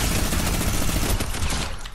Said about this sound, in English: that person using the minigun